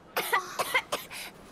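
A character in Final Fantasy XVI coughs in a short, close fit of about four or five rasping bursts, separated by brief gaps, against a quiet background.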